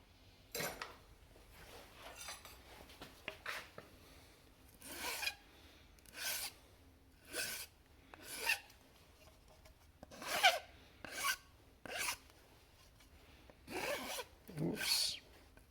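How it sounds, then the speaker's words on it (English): A hand file rasps across a machined metal part to remove a burr, giving about a dozen short, scratchy strokes in an uneven rhythm, close and fairly quiet, with brief pauses between strokes. "Let me deburr this."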